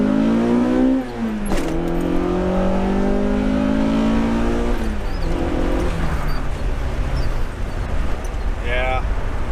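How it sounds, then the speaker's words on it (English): A Honda Civic with basic bolt-ons and the catalytic converter fitted, driving with a quiet, smooth engine drone that rises and falls through the gears, heard from inside the car. "this is how my exhaust currently sounds like. Pretty quiet, pretty stealth."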